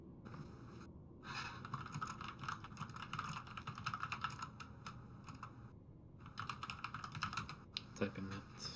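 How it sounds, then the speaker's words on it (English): Rapid clattering keystrokes on a computer keyboard while typing into Discord, steady and close, with brief pauses around the first and sixth seconds. "Typing"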